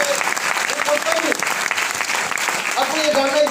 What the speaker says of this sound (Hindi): एक जोरदार ताली होना चाहिए स्मार्ट वैल्यू के लिए।